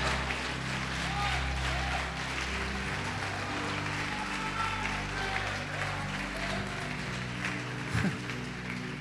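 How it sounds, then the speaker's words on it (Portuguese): A church congregation applauds in praise, a faint, sustained patter of clapping from a large crowd that keeps going throughout under a low hum, with no words spoken over it. "Pode aplaudir e glorificar o Senhor Jesus."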